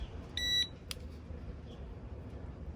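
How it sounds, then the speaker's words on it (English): A TESMEN TBF-200 brake fluid tester turned on gives one short, clear high-pitched electronic beep, close and alone over faint background hiss, followed by a brief click. "turn this tester on"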